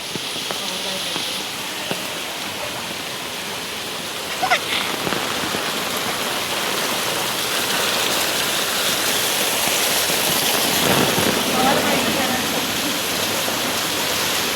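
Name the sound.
heavy monsoon rain pouring down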